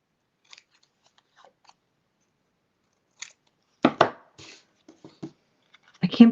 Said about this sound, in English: All right, let me cut this off.